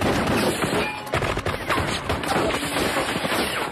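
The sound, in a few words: gang riddling a house with bullets in action film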